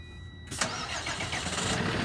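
A snowplow truck's engine cranking and catching, then settling into a steady, fairly loud rumbling idle right after starting.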